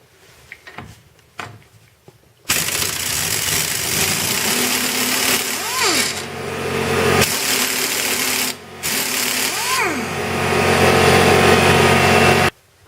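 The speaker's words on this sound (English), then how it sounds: "I broke it free with the pneumatic" A pneumatic impact wrench hammers loudly at a strut nut on a Volvo C70, a few short bursts first, then a long rattling run broken by two brief pauses, close up with no talk.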